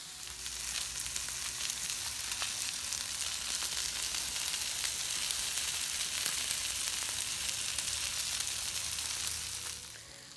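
Chicken wings sizzle and fry on a Blackstone flat-top griddle, a steady loud crackle with dense spitting pops that runs unbroken for about ten seconds before easing at the end.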